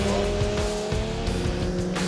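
An Aprilia RSV4 sport motorcycle runs hard on a race track, its engine roaring loud and close without pause, pitch wavering as it revs through the short stretch.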